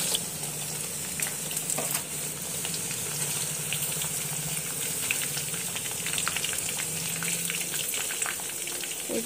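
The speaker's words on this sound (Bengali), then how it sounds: "আলুগুলোকে এক এক করে তেলে হালকা ভেজে নেব" Potato sticks for homemade french fries sizzle and crackle in hot oil with a continuous bubbling hiss, close and steady, with occasional stirring clicks.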